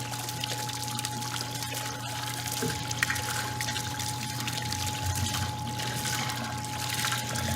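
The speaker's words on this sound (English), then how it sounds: "what's particularly interesting about these water wheels is that at low pressure the water flow will be periodic" Water pouring onto a chaotic water wheel, a steady faint splashing and trickling stream that runs continuously with a constant low hum beneath and no speech.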